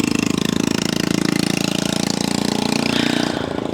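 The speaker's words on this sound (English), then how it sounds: "And a little old motorcycle." A little old motorcycle's engine running nearby on a seaside street in Corozal, Belize, a loud, steady, rapidly pulsing mid-pitched putter that holds even and eases slightly toward the end.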